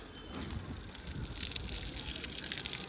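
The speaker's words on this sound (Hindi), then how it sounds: "इसको पानी अच्छे से दे देते हैं" Water gushes steadily onto a dry red oleander and hibiscus plant, a soft, even splashing rush that continues unbroken throughout at a low, close level.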